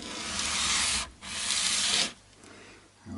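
Sandpaper wears down a slanted spot on part of a Squier J Bass. It makes two sustained, close abrasive rubbing passes with a short gap between them, then quiets, with no voices.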